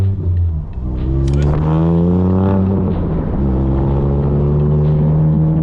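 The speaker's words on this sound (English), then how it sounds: "It's popping hard." A lowered Honda with shorter Swift springs idles and revs, its engine a steady low harmonic drone that rises and falls in pitch, with a cluster of sharp exhaust pops near the start; no one speaks over it.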